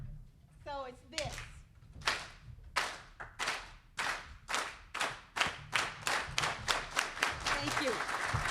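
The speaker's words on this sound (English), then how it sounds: "I want us to do a farm worker clap in honoring Tammy" Farm worker clap performed by a crowd at a councilmember's oath of office on Beacon Hill: sharp unison claps that start slow and evenly spaced, then speed up into a fast continuous clatter, with a voice briefly heard at the start.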